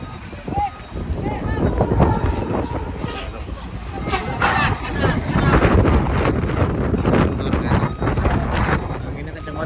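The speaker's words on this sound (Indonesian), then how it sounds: "Anginnya kenceng banget nih" Strong wind buffets the microphone at Merak ferry port during extreme year-end weather, a loud continuous roar with gusting surges and rumbling low noise from the port and vessels throughout.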